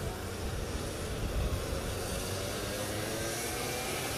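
Racing kart engines on a kart track at a ROK Cup race, a steady loud buzzing roar of several engines blending together without pause.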